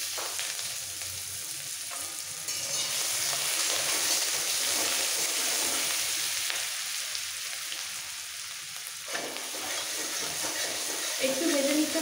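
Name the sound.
frying chillies, grated garlic and ginger in pan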